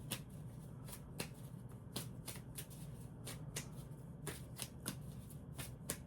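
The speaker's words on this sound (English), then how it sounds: "Let me shuffle this journey deck." An oracle card deck being shuffled by hand, a steady run of crisp riffling snaps and card flicks repeating every fraction of a second, close and clear against a quiet room with no talking.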